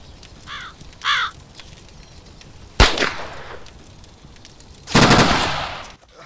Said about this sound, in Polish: Te wrony.